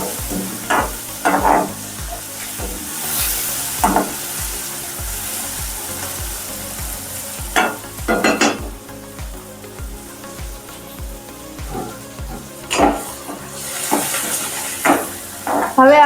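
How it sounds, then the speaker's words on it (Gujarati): Potatoes and onions fry in a pan for sabudana khichdi while a utensil stirs them in repeated scraping strokes over a steady low sizzle, close and fairly loud. "આ રીતે હવે આપણે બટેકાને ડુંગળી બે શેકાય છે"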